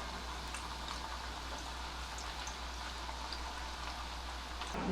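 Banana chips frying in hot oil over a low gas flame, a steady faint bubbling crackle like light rain, even and unbroken throughout, with a low hum underneath and no talking.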